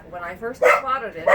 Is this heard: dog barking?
yes